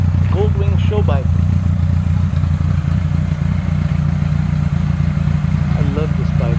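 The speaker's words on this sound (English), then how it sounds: "So just did 54 miles on my Goldwing show bike." A 1982 Honda GL1100 Goldwing show bike engine running with a steady low rumble, close and continuous, while a person talks over it at the start and end.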